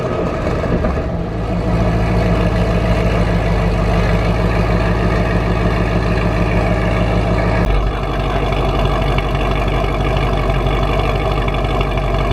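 A supercharged Corvette engine cranks and catches, then settles into a loud, steady, deep idle with a low rumbling drone that holds for several seconds, with a slight shift in tone partway through.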